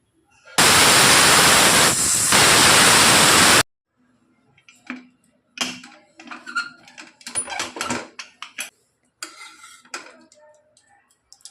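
A pressure cooker cooking cowpeas lets out one loud, sustained hissing whistle for about three seconds, followed after a pause by light clattering of utensils and pots.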